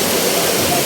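Brief burst of floodwater rushing toward a river in a relocation area, a loud, continuous broadband roar with no voices.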